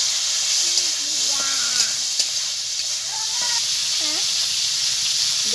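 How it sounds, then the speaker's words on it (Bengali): Shrimp rubbed with salt and turmeric frying in hot mustard oil in a kadai, a steady broadband hiss and sizzle filling the whole stretch, with faint tonal squeaks and a few light clicks over it. "এই চিংড়ি মাছটা ভাজার জন্য কড়াই সর্ষের তেল দিয়ে দেবো"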